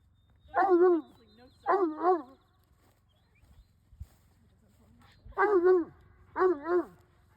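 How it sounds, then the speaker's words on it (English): Four wavering, rising-and-falling coyote howls come in two pairs with a quiet gap between, close and fairly loud over a low background rumble. "that's a coyote. Nope. Let him howl. Go for it, howl."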